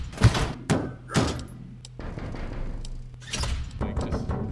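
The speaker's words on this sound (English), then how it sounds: "just waiting till we hear Freddy, then just shutting the right door" A heavy security door in a Five Nights at Freddy's style game slams shut several times as loud metallic thuds and crashes, with a low mechanical hum running between the impacts.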